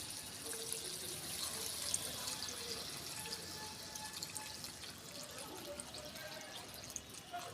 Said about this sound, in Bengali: এবারে আমি এখানে গরম জল করেছি এই গরম জলটা দিয়ে দেবো